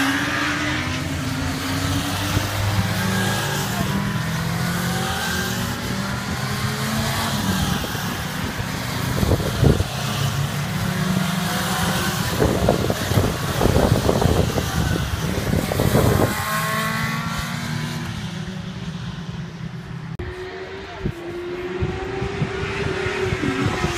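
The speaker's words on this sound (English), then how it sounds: "it was really good to see the bikes going past around the" Motorbikes on a race track at a riding school, engines rising and falling as they sweep past near the Melbourne hairpin, overlapping passes heard steadily and loudly for over twenty seconds.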